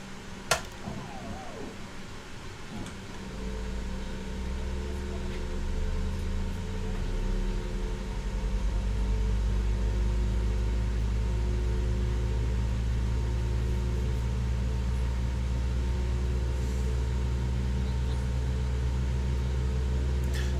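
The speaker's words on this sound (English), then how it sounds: "Let's start engine 1." Airliner engine 1 spooling up in Microsoft Flight Simulator 2020, a low rumbling drone that starts after a brief click and steadily builds in loudness and pitch over about twenty seconds, heard alone.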